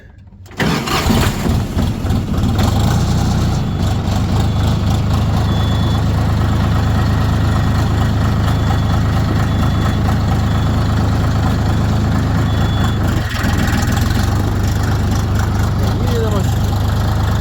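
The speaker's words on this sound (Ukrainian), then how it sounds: "один той самий трактор. Давайте заведемось." A DTZ tractor engine cranks and catches, then settles into a loud, steady idle close by, running evenly for the rest of the stretch.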